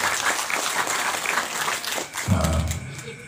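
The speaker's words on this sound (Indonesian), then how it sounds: "Tepuk tangan." Applause rises from a gathering at a dhikr manaqib assembly, a loose patter of many hands clapping at moderate distance, ending in a low thump.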